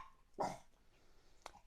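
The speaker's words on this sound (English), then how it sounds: "The dog's barked outside." Dog barking outdoors, heard indoors as one faint, distant bark followed by a brief, quieter second sound, with no voices.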